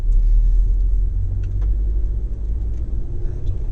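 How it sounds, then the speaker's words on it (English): A learner car on a driving-campus track moves off in a straight line, its engine a low, steady rumble that builds gently as it pulls away, with no speech. "I'm going to move off now in a straight line, moving up smoothly through our gears."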